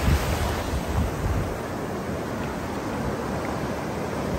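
Sea waves wash continuously onto Tucuns beach in Búzios, Rio de Janeiro, a broad, steady surf roar mixed with wind rumble on the microphone.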